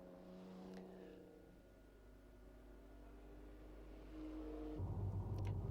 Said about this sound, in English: rewarded with the sight of a little Gordini going through its paces